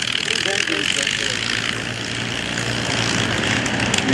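Four-engine B-29 Superfortress propeller airliner's radial engines run at a steady, loud drone that fills the clip, while voices talk faintly beneath the engine roar at a World War II airshow demonstration.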